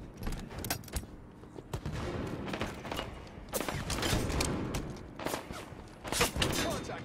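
Gunfire crackles in bursts through a Halo 5 Arena multiplayer match, sharp repeated shots and clattering mechanical impacts scattered across the stretch, fairly faint and uneven, with a voice murmuring underneath at times.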